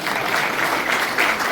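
Applause from an audience at a BJP political event in Sonipat, Haryana: a steady wash of clapping that stays at one level, close and fairly loud, with no voice over it.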